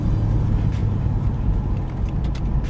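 A Nissan 350Z, a track project car fresh from a timing job, drives around a neighborhood, its steady low engine rumble and road noise continuous and close throughout without talk.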